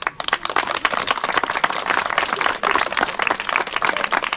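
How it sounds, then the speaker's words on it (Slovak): Applause for the referees at an outdoor youth firefighter competition in rainy weather: dense, sustained clapping from a sizeable crowd, loud and steady throughout with a brief dip midway. "veľký potlesk pre pánov rozhodcov"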